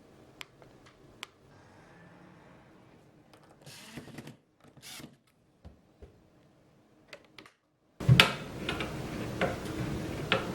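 A special hinge on the bifold door of a black forest desk clicks and ticks through its range of motion, with scattered faint taps and short scrapes, then a louder rustling, rubbing stretch at the end.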